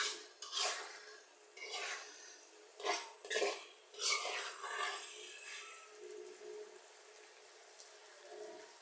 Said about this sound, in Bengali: এই যে হলুদ মরিচ দিয়ে নাড়াচাড়া করতেছি